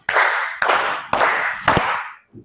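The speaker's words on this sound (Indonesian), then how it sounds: "Tepuk segi 4." A group claps in unison in a square pattern, four loud, evenly spaced sharp claps, each ringing briefly, with a faint soft tap at the end.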